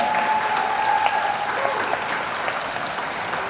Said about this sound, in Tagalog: Bigyan natin sila ng isang masigabong palakpakan.